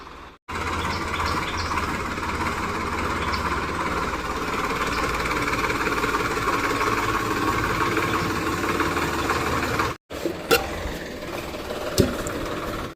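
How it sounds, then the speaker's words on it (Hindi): A tractor engine on a farm, a steady loud droning rumble that runs continuously, cuts out briefly, then resumes with a few knocks. "वहाँ से आ रहा है ट्रैक्टर, आवाज़ तो आ रही है सामने से"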